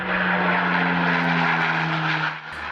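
A firefighting aircraft flies over Lake Cascade during the Rock Fire, its propeller engine giving a loud, steady droning roar with a low hum that fades slightly near the end, with no talk.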